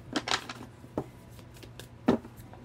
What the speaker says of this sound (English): Let's go ahead and get two more shuffles.